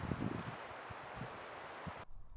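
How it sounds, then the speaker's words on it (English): A strong gust of wind sweeps across an outdoor fishing spot, a loud, steady rushing roar with rustling and microphone buffeting that cuts off abruptly near the end. "That, that's a good gust of wind right there."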